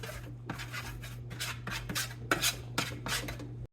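Potatoes being stirred with oil, dried parsley and lemon juice: rhythmic rasping scrapes of a utensil against a bowl, about seven strokes in a regular pattern over a low steady hum, close and moderately loud, no talk.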